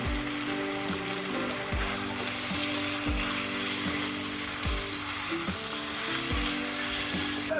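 Sausage and chicken sizzling in a hot pan for Valenciana, a continuous close frying hiss with a repeating low-pitched hum in the background, no talking.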